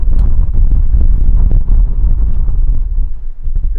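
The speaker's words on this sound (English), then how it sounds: "Here comes the wind." Wind buffets a microphone outdoors during a chest workout with exercise bands, a steady low rumbling roar filling the whole moment without letup.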